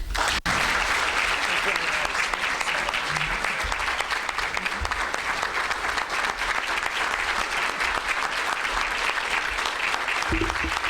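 Loud, sustained applause from a breakfast-meeting audience welcoming Congressman Joe Courtney at a Middlesex Chamber event, dense clapping filling the room without a break.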